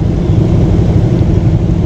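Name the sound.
Rosalia Indah Scania K410 bus on toll road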